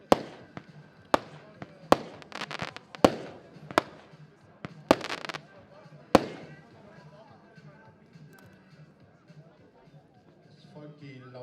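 Diamond-brand fireworks fired one after another in about eight sharp, loud bangs spaced roughly a second apart, each trailing crackle and rumble, the last at about six seconds, followed by fading noise and quiet.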